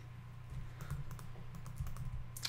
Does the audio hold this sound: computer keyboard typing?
yes